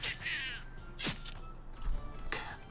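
A cat in the pixel-art pirate game Pixel Piracy gives several short, sharp meows, with a loud cry near the middle and quieter calls around it.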